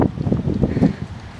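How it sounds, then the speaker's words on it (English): Strong wind at a beach buffets the microphone, a continuous low rumbling roar with gusty swells, loud and close, with no other clear sounds. "So it is really windy."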